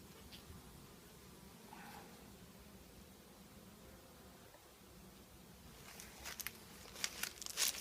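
Honeybees buzz around an open double-storey hive in October, a steady low hum at moderate distance, with a few sharper rustles and clicks of frames toward the end.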